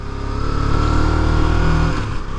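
KTM Duke 250 (2023) motorcycle engine pulling hard in first gear on a rough road, a loud, steady close-up revving drone that holds for about two seconds, then drops away, with no talking.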